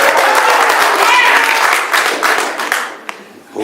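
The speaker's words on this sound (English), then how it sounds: "hold your applause" Audience applause during a 10th Ward candidates' debate at Our Lady of Guadalupe, a steady wash of clapping from a crowd that fades over a few seconds.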